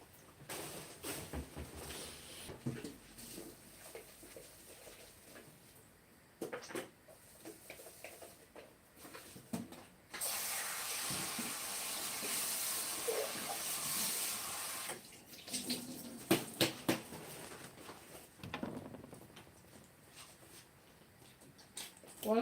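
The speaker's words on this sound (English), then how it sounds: "Time to give that a rinse." Water runs from a kitchen tap to rinse something in a sink, a steady broadband rush from about ten to fifteen seconds, with softer splashing and handling noises before and after.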